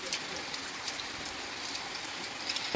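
Rain falls steadily outdoors as a continuous, even hiss of drops on surfaces, fairly soft and without voices.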